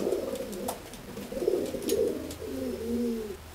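A bred pigeon held in someone's hands coos up close in a run of low, throaty, rolling calls, steady and clear, with no voices over it.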